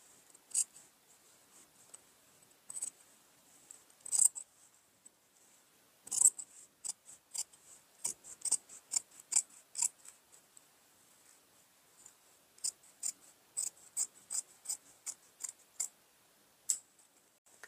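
Scissors trim the facing seam allowance on a denim jacket, producing crisp, close snips, sometimes single and sometimes in quick runs of several, in an otherwise quiet room.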